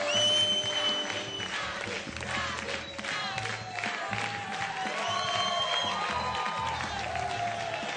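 Audience applause and cheering for a band at a Top of the Pops studio show, a steady wash of clapping with crowd shouts and music tones running underneath for the whole stretch.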